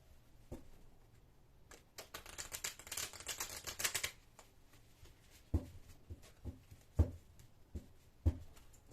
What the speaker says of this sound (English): that was a bit of a cruddy shuffle